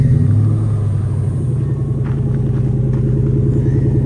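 First-generation Toyota Tundra 4x4 V8 with a MagnaFlow exhaust, a deep, steady, close-up idle rumble with pulsing exhaust beats throughout, no talk.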